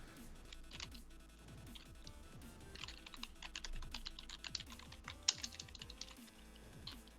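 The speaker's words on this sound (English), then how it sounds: "I hear a lot of typing." Rapid, irregular typing on a computer keyboard, with soft key clicks in steady bursts at low volume and no talking over it.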